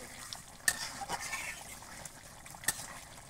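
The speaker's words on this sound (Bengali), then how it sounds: "দেখুন মাংস টকবক করে ফুটতেছে" Chicken meat simmers in a pot with soft, quiet bubbling under a low hiss, broken by two sharp clinks of a utensil or lid against the pot.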